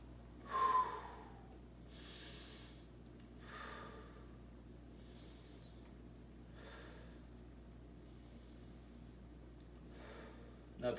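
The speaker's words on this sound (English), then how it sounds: "Breathing exercise." A person runs through a breathing exercise, a handful of sharp, audible inhales and exhales spaced a second or two apart, close to the mic against a quiet room hum.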